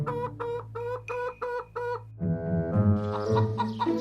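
Cartoon chickens in a coop: a run of six or seven evenly spaced, loud, close clucks, then a denser, overlapping burst of excited clucking and squawks from several birds, no speech.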